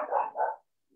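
A dog barks twice in quick succession outdoors during a hailstorm with hailstones bigger than golf balls, two short, fairly close barks followed by quiet.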